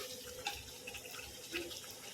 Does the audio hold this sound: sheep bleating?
no